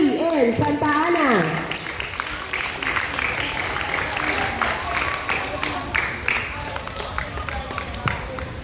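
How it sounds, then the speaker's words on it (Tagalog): Loud applause at a scout camp closing ceremony, with an announcer's voice at the start giving way to a sustained crowd clapping that runs steadily to the end, with scattered cheers. "Isang malakas na palakpak ulit"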